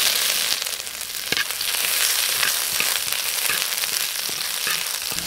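Onion, garlic and ginger hit a hot pan and sizzle steadily, a dense crackling fry with scattered sharp pops and stirring scrapes, close and continuous throughout.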